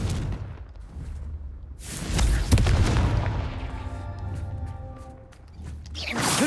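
A fire-blast spell explodes in Hogwarts Legacy during Merlin trials, a booming burst with a whooshing rush, followed by a lingering rumble and ringing magical tones, loud and close with no talk.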